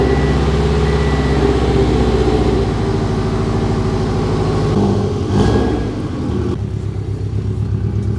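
A Subaru STI budget build on new wheels idles and rolls out, its engine giving a loud close steady rumble with a rhythmic low throb, easing briefly around the middle before settling back.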